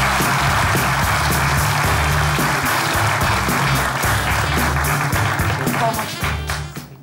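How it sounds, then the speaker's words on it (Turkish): Television comedy show studio audience giving loud, dense applause as a violin virtuoso walks on, a sustained roar of clapping that fades out at the very end. "Alkışlarınızla ünlü keman virtüözü Mesut Okay geliyor"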